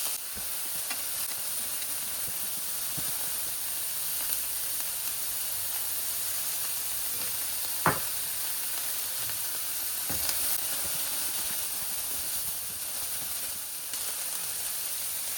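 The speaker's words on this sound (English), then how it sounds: "Combine all vegetables and stir fry them for another 1 minute." Vegetables, including cabbage, stir-frying in a pan for vegan Chinese flat noodles: a faint, steady sizzle with a few sharp utensil clicks and scrapes, no talk.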